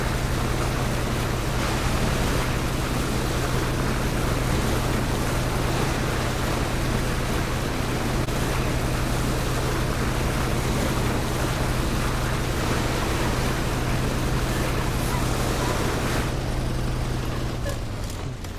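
A boat engine drones steadily with rushing water and wind buffeting the microphone, loud and continuous throughout.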